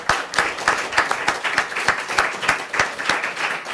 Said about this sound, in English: Can we have a round of applause for all our representatives?